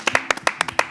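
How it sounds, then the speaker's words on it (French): A few people clap for Kenopi, a performer, in quick, slightly uneven close-up hand claps, about eight sharp strikes in a second with no crowd roar behind them. "Applaudissez Kenopi pour moi."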